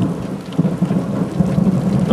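Steady rain falls through a thunderstorm in Digger's Rest, with rumbling thunder rolling underneath and swelling in loud bursts, no voices.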